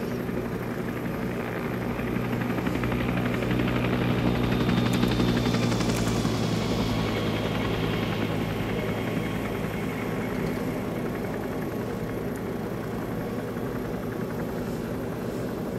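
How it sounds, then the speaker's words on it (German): Three helicopters fly overhead in a video game, making a steady, loud rotor and engine drone that swells a little midway and then holds, with no talking over it. "Da oben sind 1, 2, 3 Hubschrauber."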